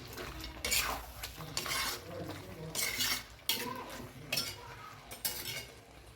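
Chicken fry tossed with coriander leaves and curry leaves in a pan: repeated scraping and clinking stirs of a utensil against metal in uneven bursts over a soft sizzle.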